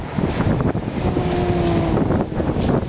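Gusty outdoor wind buffets a microphone while smoked corn is being fire-roasted, a steady broadband rush of wind noise filling the whole stretch with faint tonal hums underneath.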